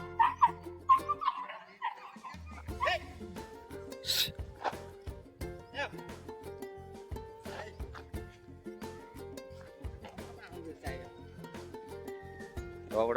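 A dog barks and whimpers in a string of short, rhythmic yips over a busy, music-like background at an office, with people talking nearby.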